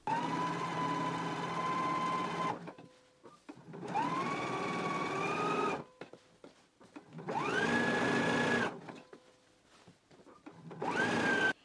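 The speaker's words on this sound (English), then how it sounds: "I'm gonna go ahead and do my understitching now." A home sewing machine understitches a garment lining in four separate bursts, each whirring up to a steady motor pitch and then stopping, with quiet pauses between the runs.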